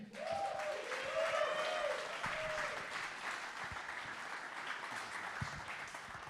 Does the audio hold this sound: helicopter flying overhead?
no